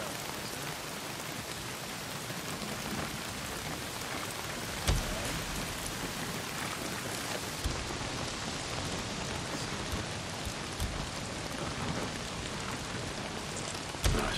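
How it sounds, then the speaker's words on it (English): Heavy rain pours steadily in the Days Gone game world, a dense, even hiss of drops pounding surfaces with a few sharper splashes and faint distant rumbles, no voices. "Well, not if it's pissing down rain."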